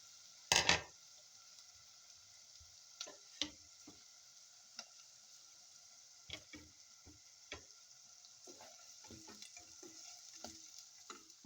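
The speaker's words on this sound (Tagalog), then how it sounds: "Let's saute onions," Onions and garlic sautéing in a pan for a mixed vegetable side dish, with a quiet steady sizzle under repeated clicks and taps of a utensil stirring against the pan. One loud clatter comes near the start.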